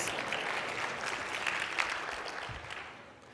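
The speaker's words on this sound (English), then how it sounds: "let's give that man a round of applause" An audience at a 2020 summit keynote gives a sustained round of applause, dense clapping that fills the room steadily before tapering off toward the end.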